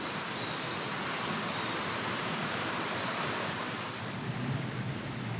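Water from two creeks joining in a valley, a constant broadband rushing wash, fairly close and even, with no voices and little variation.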